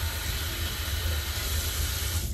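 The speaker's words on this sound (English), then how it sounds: "So what you hear now is actually the subway." A nearby New York City subway train produces a loud, steady rushing roar and hiss with a low rumble, sustained without pause and with no talking.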